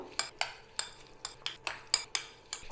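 Chicken being mixed with half a lemon's juice and a few spoons of white oil in a bowl, a spoon knocking the bowl in a steady series of about ten sharp clinks, close and clear with no talk.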